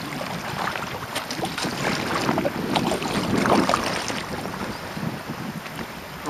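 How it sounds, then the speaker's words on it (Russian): Headwind gusts buffet the microphone over open lake water during a kayak trip, a steady close rushing roar with faint paddle splashes and water lapping beneath. "Ну вот открытое пространство, опять встречный ветер."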